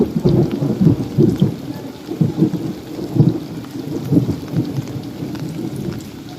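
Heavy tropical rain during the Philippine rainy season pours down steadily, with rolling thunder rumbling low and close in repeated swells beneath the hiss of the downpour; no one speaks.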